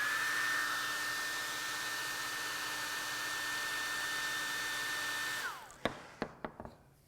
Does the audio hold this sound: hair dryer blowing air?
yes